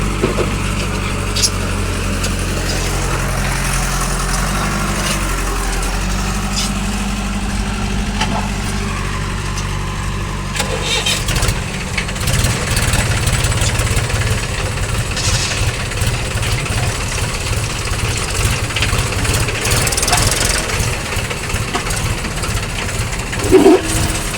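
A loader's engine idles for a long stretch, a steady low rumble that turns rougher and more pulsing partway through, heard up close with no speech.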